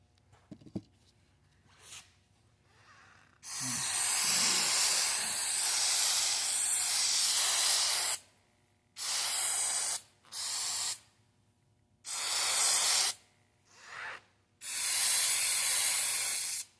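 Aerosol paint stripper hissing in several bursts: one long continuous spray, then a series of shorter sprays separated by pauses, loud and close.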